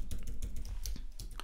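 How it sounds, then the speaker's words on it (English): Quick clicks of typing on a computer keyboard, a rapid run of light keystrokes heard close and alone. "we're going to type in"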